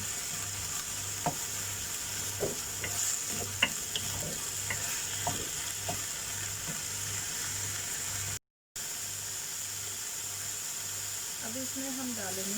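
Prawn masala with ginger garlic paste frying in a pan, a soft steady sizzle broken by scattered clicks of a spoon stirring against the pan, with a brief dropout and a voice near the end.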